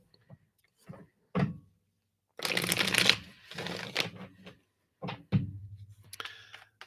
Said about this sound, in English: let me just shuffle these again. That's a lot of cards here.